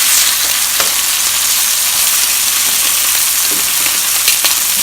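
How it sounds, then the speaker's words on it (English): Pork chops searing in a frying pan, a loud dense unbroken sizzle close up with faint scattered pops and no voices. "we're going to let those sear on both sides as well"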